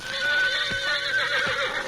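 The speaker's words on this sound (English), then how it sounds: "the shrill whinnies of Dan's horse Victor roused Lund from his sleep" A horse whinnies shrilly, a long, close, clear neigh with a couple of soft hoof clops underneath.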